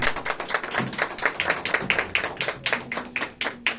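A church congregation claps in a quick, rhythmic beat during worship, loud, sharp hand claps repeating roughly every quarter second, with a faint sustained tone beneath them toward the end.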